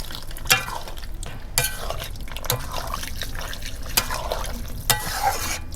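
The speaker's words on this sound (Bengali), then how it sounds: "এই জল দিয়ে দিচ্ছি।" Water goes into a pan of chicken kosha with boiled potatoes and gets stirred. Wet sloshing and bubbling are broken by sharp spoon knocks against the pot roughly every second, heard up close.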